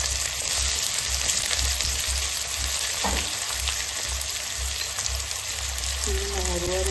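Onions sizzle steadily in a hot pan with panch phoron spices, a dense continuous crackling fry close up, with a brief stir and a faint voice near the end.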